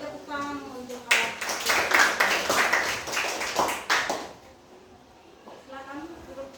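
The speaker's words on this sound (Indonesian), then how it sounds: "Ya, kita tepuk tangan untuk alat." Classroom audience clapping together for a group's presentation, a dense burst of hand claps lasting about three seconds before tapering off, with voices talking before and after.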